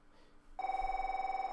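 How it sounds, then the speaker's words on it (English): Telephone ringing indoors, a steady electronic ring that starts partway through and continues unbroken, moderately loud over quiet room tone, no voices. "since that phone's ringing"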